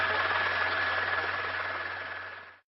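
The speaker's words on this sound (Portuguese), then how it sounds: "tem um carro saindo dali" A car pulling away from a street scene gives a steady, close engine drone with a low hum that slowly eases in level before cutting off abruptly.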